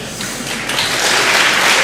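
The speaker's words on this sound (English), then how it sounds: "That was a rather easy clap, I must say." Audience applause during a debate between Christopher Hitchens and John Haldane on religion, a short wash of clapping that builds steadily and stays loud to the end.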